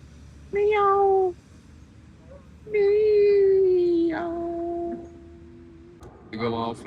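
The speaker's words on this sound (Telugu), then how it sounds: "ఇదిగో పిల్లి పిల్ల." A kitten in a park meows three times, drawn-out plaintive calls with gaps between, close and clear over faint outdoor background.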